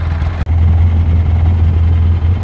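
A 2011 Polaris Ranger HD utility vehicle fitted with a BOSS snow plow sits idling in reverse, its engine a steady low drone heard close up with a brief dip early on.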